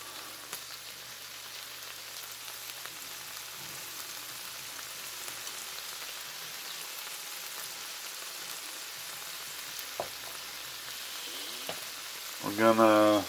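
Onions sizzle in a hot pan for butter chicken with a soft, steady crackle and a few sharp clinks, then a louder scraping clatter at the end.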